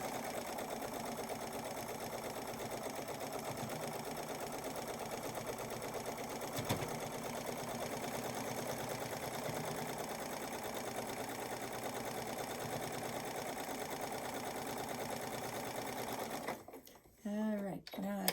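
A sewing machine stitches a quilt block on the diagonal in a fast, steady mechanical whir that runs unbroken for most of the time before stopping, after which someone speaks.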